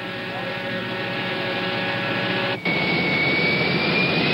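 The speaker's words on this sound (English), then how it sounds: "To get around, the Zeppelin uses a chartered 707, the kind of plane President Nixon uses." A chartered Boeing 707 jet airplane gives a loud, steady roar with a high whining tone. The sound drops out for a moment partway through, then resumes at full strength.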